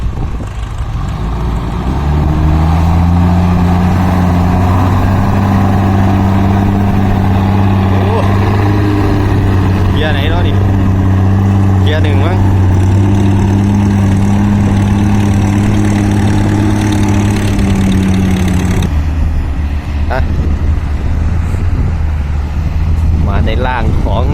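A tractor's diesel engine runs loudly and steadily with a deep, throbbing rumble close by while ploughing a field; a voice speaks briefly over it, and the engine tone shifts near the end.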